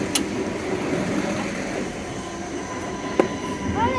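An Adelaide Metro train passes at Largs North station, a steady rumble of wheels on rail with a sharp click and faint squeal toward the end, heard alone without talk.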